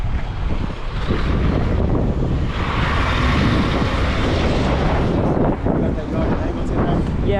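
Strong wind at a roadside tow scene after a head-on crash between a Honda and a Toyota: loud, continuous buffeting roar across the microphone, with voices talking underneath.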